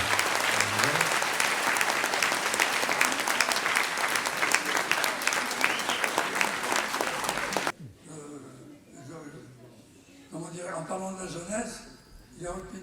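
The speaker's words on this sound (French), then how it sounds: "On va applaudir." Loud audience applause rolls on for several seconds, then stops abruptly and a voice begins speaking over a quieter room.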